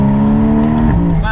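A Porsche Cayman 981 GTS sports car engine revs loud and close, its steady droning note holding then dropping briefly before climbing again.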